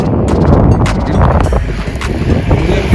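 Strong wind buffets the microphone outdoors on a mountain road trip near a parked car, a loud continuous roar with gusty rushes throughout.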